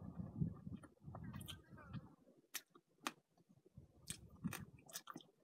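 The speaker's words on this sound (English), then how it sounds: "Chewing the bones." Cooked mouse bones from a long-simmered stew are chewed close to the mouth, giving soft, irregular crunches and sharp clicking bites at a low volume.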